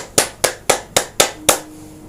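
Six sharp, evenly spaced hand claps ring out close and clear, one about every quarter second, with a faint steady tone lingering after the last.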